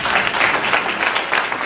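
Church congregation applauding at a Pentecostal Sunday morning service, steady sustained clapping from a crowd across the whole moment, fairly even in loudness.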